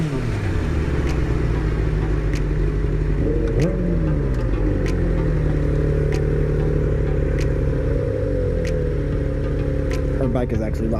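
Motorcycles on the road, with a loud, steady engine drone and rumble throughout and a brief shift in pitch near the end, heard up close from the rider's position.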